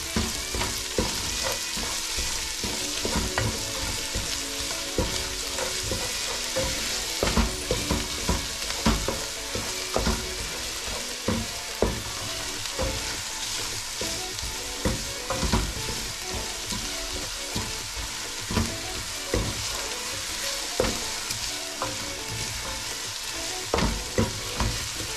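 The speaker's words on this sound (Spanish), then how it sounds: "Ya que se ha dorado un poquito, le echamos la cebolla." Onion and garlic frying in a pan for broccoli rice, a steady dense sizzle with scattered crackles and pops from stirring, close and continuous throughout with no talking.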